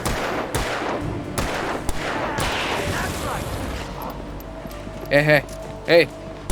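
Gunfire in Alan Wake Remastered, set in a shadowy forest: a string of sharp, loud shots with rumbling booms in the first seconds, followed by quieter tonal in-game sounds.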